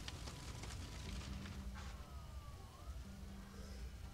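Emergency vehicle sirens in the SimCity video game, with a fire engine and police cars responding to a city disaster; sweeping siren wails rise and fall amid a busy, dense mix of city game sounds throughout.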